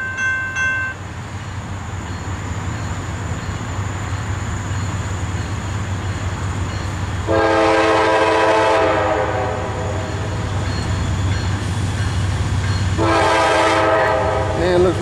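A Norfolk Southern eastbound freight train passes the Shell Road crossing in Chesapeake, Virginia, under a steady rumble of rolling wagons. Two long, loud horn blasts sound near the camera, several seconds apart.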